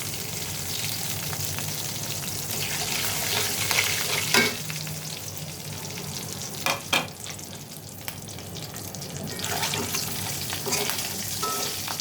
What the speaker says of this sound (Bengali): এবার আমি এই তেলের মধ্যেই দুটো তেজপাতা দিয়ে দেবো, দুটো তিনটে। আর দিয়ে দেবো কাঁচামরিচ।